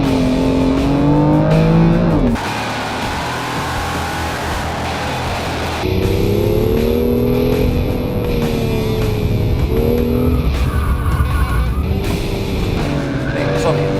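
A BMW M2 launches at full throttle with a loud engine roar and squealing tires, revs rising in steps with gear changes while someone talks over it.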